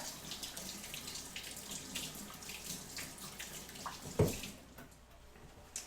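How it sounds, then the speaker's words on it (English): Tap water runs steadily from a faucet as hands are washed in a kitchen, a continuous close splashing hiss with a brief louder splash near the end. "And I'm going to wash my hands again."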